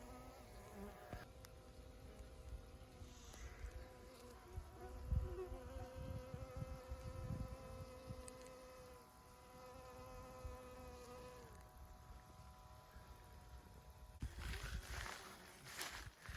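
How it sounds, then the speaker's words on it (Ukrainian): Honeybees buzz continuously around late-blooming nectar flowers close by, several overlapping drones rising and falling, with occasional soft knocks and rustles in the background. "Десь бджоли працюють, десь слабше"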